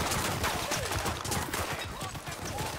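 Dense, continuous machine gun fire from the video game Cyberpunk 2077, loud rapid bursts filling the whole stretch with no pause.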